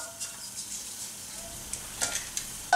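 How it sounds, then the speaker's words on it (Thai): Chilies, shallots and garlic are dry-roasted in a pan for Thai shrimp chili paste, with soft scraping stirs and light rustling, a few sharper knocks near the end. "ขอคั่วพริกแล้วก็ทำขั้นตอนนี้ให้เสร็จนะคะ"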